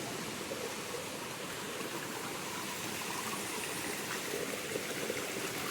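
Stream water flows near Channat waterfall as a steady, even rush of broadband noise that holds unchanged throughout, with no voices over it.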